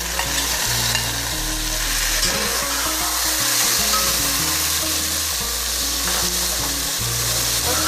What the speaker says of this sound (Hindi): अब हम इसके अंदर गोश्त को डालेंगे